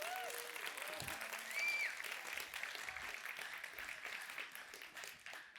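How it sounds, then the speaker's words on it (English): An indoor audience at a talk gives a burst of clapping that swells, then slowly thins and fades over several seconds, heard from within the room. "Everyone give Tom a little bit of clap."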